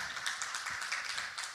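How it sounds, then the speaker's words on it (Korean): Brief applause for a pastor at a church seminar, a crowd clapping steadily at moderate distance for a moment, with no speech over it. "목사님께 박수 한번"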